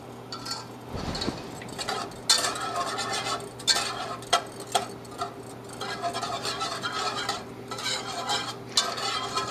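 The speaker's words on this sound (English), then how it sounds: "Just going to whisk that in." Butter and brown sugar whisked into a Guinness reduction in a pan, a steady rhythmic stirring with a gentle sizzle and occasional clinks of the whisk against metal, close up with no talking.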